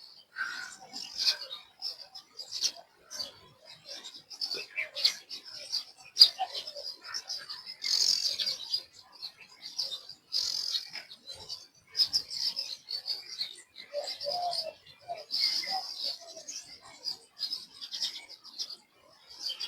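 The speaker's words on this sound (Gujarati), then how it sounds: "અહીંયા ચકલા બેઠા છે." Sparrows chirp at dawn in heavy morning fog as the sun rises, with bright, clustered tweets that come and go through the whole stretch at moderate distance, over quiet background rustle.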